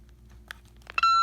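A generation 6 Think It Over baby simulator doll gives a single clear electronic beep at the end, preceded by faint taps against its back in a quiet room.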